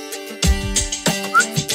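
A person whistles a few short, bright tones alone at close range, with brief breaks between the notes.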